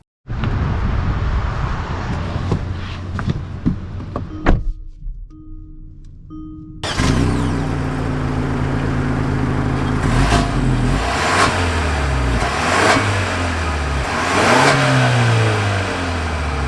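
A 2022 Kia Stinger GT-Line with the 2.5-liter turbo engine runs through a brief quiet gap, then a loud surge as it pulls away, with repeated rising acceleration pulls and shifts close to the microphone.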